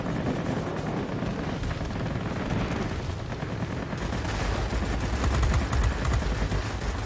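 Aircraft gunfire in the World of Warplanes game: dense, continuous rattling bursts over a steady engine drone, loud and unbroken, with no talk.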